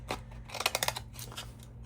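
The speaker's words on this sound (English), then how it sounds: "I'm going to cut this with the deco scissors" Decorative scissors snip through paper in a quick run of several crisp, close cuts, quiet and alone with no talking.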